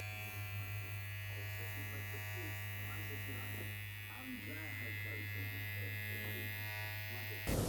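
Electric hair clippers with a number 1 guard, lever fully open, fade a guideline into Afro hair in a barbershop; a steady, close buzzing hum runs throughout, fairly quiet and even.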